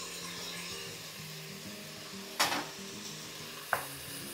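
Ginger garlic paste drops into hot oil in a pan for vegetable pulao, giving a low steady sizzle with stirring scrapes and two sharp hissing bursts near the end.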